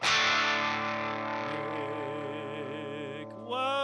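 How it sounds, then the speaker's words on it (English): Electric guitar power chords played through a distortion effect, a thick sustained crunchy chord ringing for about three seconds before a quick change to a new chord near the end, loud and with no talk. "Power chords and distortion?"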